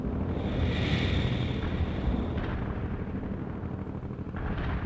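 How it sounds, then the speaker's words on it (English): A heavy artillery barrage in World in Conflict, heard as a steady roaring rumble of distant blasts with a windy, noisy wash, loud and unbroken throughout. "Lay down a heavy barrage."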